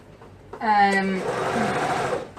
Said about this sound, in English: we are attaching the elastic directly to the pants. And I'm pulling the elastic with this hand as I'm sewing